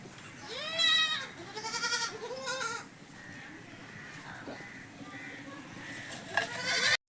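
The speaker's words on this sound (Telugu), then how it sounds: "మేక పిల్లలు అయితే అరుస్తూ ఉన్నాయి" Goat kids bleat for their mothers in a series of wavering cries, the first few loud and close, then fainter calls further back, under a steady low background.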